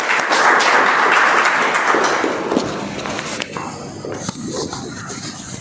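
An audience at a Toastmasters meeting applauds to welcome the timer, a loud sustained round of clapping that gradually thins out and fades over several seconds.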